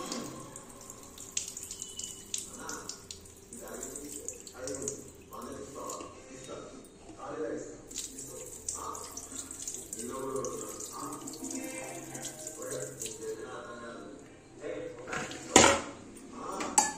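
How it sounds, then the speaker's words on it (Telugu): Lentils for gongura dal are rinsed under a running kitchen tap, with water splashing steadily and pots clinking now and then, while someone talks over it. "ఇప్పుడు దీన్ని 4-5 సార్లు అయితే కడిగేసుకున్న తర్వాత అప్పుడు పప్పులో వేసేద్దామండి"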